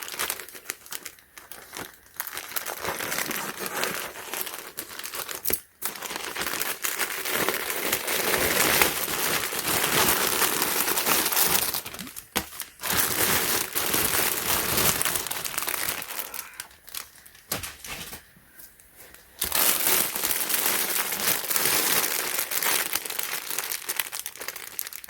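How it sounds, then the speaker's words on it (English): A dirty plastic shipping bag is sliced open and crinkled up close, with loud, continuous crackling and tearing that stops briefly for two short pauses before resuming. "So I'm just gonna cut this bag open."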